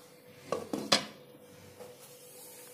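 A metal lid clatters onto a pan of brinjal and dried bombil curry, with three quick knocks close together and then a faint rattle, over a quiet stove hum.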